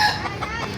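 Chickens and roosters cluck and call in a dense, continuous flock chorus at a poultry market in Baliuag, Bulacan, fairly close and steady.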